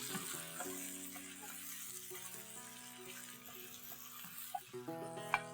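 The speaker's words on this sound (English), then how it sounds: "Mix all of this well, and this just kind of needs to sear the outside of the meat" Mutton sears in a pan with onions for a traditional mutton curry, producing a quiet, steady sizzle under background music, with a couple of utensil clatters near the end.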